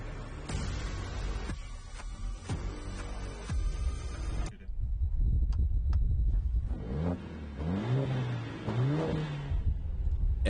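A 2019 Mercedes-AMG A45 launches hard, its engine roaring loud and near with a rising rev and gear-change steps, then a brief gap before another climbing, pulsing acceleration surge.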